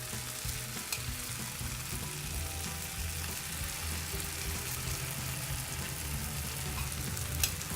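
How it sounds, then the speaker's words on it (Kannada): Tamarind juice poured into a pan of frying tomatoes for tamarind gojju, giving a steady, close sizzle and bubbling that holds evenly throughout with no talking. "ನಾವಿದಕ್ಕೀಗ ಹುಣಸೆ ರಸ ಆ್ಯಡ್ ಮಾಡೋಣ."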